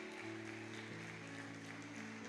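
A congregation claps during a church celebration service while sustained musical tones hold underneath, giving an even, continuous patter of hands.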